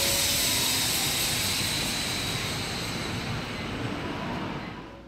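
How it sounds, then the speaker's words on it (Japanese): A JR Shinkaisoku rapid train bound for Tsuruga pulls out of Kyoto Station, a loud, broad rumbling roar of motors and wheels that holds steady, then begins to fade toward the end. "切り離し作業が終わると先に敦賀行きが発車していきます。"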